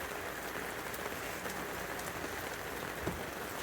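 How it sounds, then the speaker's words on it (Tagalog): Steady, heavy rain pouring down on a surface at a campsite with a campfire, a dense continuous hiss with scattered drops, no voices. "Pero yung ulan, medyo lumalakas-lakas na talaga siya."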